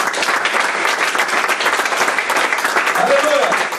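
A church congregation applauding for Jesus during a Sunday service, dense sustained clapping throughout with crowd voices mixed in.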